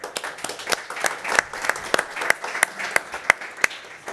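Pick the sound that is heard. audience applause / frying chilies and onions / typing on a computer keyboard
audience applause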